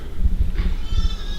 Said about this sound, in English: That's both ewes and lambs.